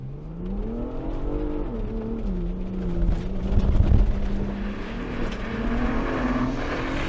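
A 2024 Ford Bronco SUV engine roars steadily and climbs in pitch as it accelerates hard off-road, with rumbling and rattling over rough ground, loud and continuous throughout.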